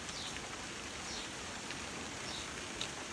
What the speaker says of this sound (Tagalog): It's very raining naman guys.